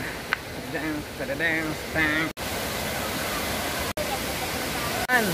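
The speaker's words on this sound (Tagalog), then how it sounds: "Finally, nakarating na tayo dito sa Vera Falls." Vera Falls roars as a steady, loud broadband rush of falling water, with someone speaking over it at the start and brief dropouts in the sound.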